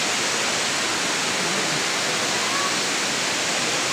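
A waterfall at Parkhan Falls in Abra roars loud and close in a dense, unbroken rush of falling water that fills the whole stretch without pause.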